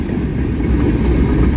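A CSX mixed freight train with many hopper cars rolls past close by, a steady loud rumble and clatter of wheels on rail lasting through the whole stretch.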